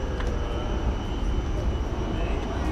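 A Boeing 787-9 Dreamliner passing at DFW Airport, a loud, steady, broad engine roar that stays level throughout, with a faint high whine above it.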